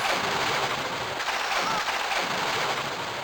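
Gunfire in the video game Tomb Raider 1 Remastered sounds as a dense, steady crackling burst that holds at a fairly even level for the whole stretch, with no pauses and no talking.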